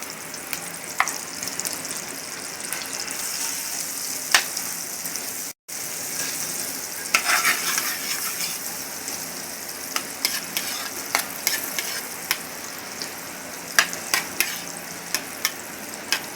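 Butter melting and sizzling with oil in a pan, a continuous crackling hiss dotted with small sharp pops and spatters, briefly cut to silence once, then sizzling on steadily nearby without talk.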